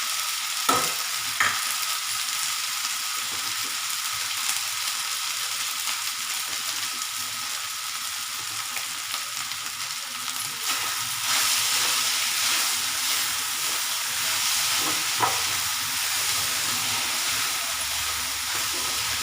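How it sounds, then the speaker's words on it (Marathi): Cooked rice with fresh grated coconut and dry fruits sautés in a pan, a continuous close sizzle and hiss with occasional spoon scrapes and stirring knocks throughout. "हे चांगलं परत परतून घेते"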